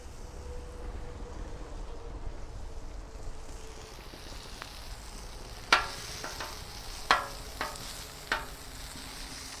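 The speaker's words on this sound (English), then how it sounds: "Now we'll get our beef down. A little oil. Our third of a pound of beef." Beef, a third of a pound, frying in a little oil on a hot cooktop for Philly cheese steak, giving a steady low sizzle with a few sharp pops and spatters toward the end, no talking.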